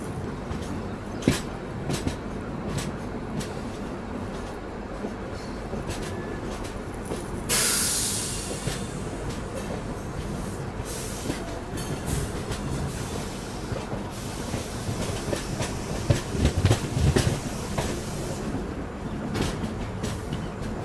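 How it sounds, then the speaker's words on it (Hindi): Rajdhani Express train rolling along curving tracks beside a lake, heard from inside with a continuous rumble, steady wheel clatter and a brief hiss, no talk. "यहाँ पे अभी अपनी ट्रेन मुड़ जाएगी।"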